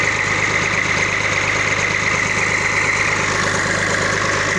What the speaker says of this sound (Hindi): ये ट्रैक्टर है जनाब, 240 है,